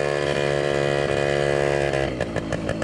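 A 1995 Yamaha PW50 mini motorcycle's small two-stroke engine buzzes loud and close while being ridden gently, a high steady drone that starts stuttering and popping near the end.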